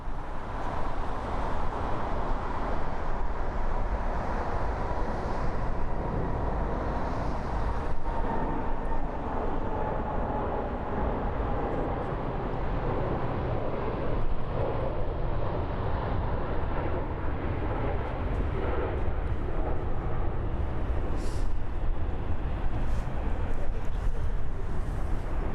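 Lufthansa Cargo Boeing 777 jet moving at Frankfurt airport, a steady, distant engine roar and broadband rumble holding evenly throughout with no talking.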